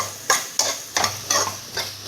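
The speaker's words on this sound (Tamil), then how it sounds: "இப்போ 1 நிமிஷம் நல்லா வதங்கிட்டு இருக்கு." Ingredients for a drumstick gravy sauté in a pan with a low sizzle under rhythmic stirring, as a spoon scrapes and taps the pan roughly every half second, close and fairly loud.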